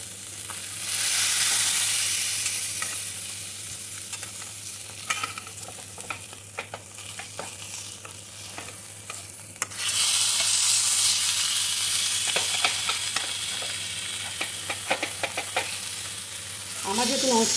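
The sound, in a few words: fish cooking in a pan without oil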